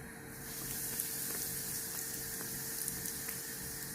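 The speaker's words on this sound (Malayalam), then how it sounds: "കുറച്ച് സൺഫ്ലവർ ഓയിൽ ഒഴിച്ചു കൊടുക്കാം ഈ ബ്രെഡ് ഒന്ന് വറുത്തെടുക്കാൻ വേണ്ടി" Bread dipped in egg frying in sunflower oil in a pan, a steady close hiss and crackle of sizzling that swells after a brief quiet start and holds evenly throughout, with no voices.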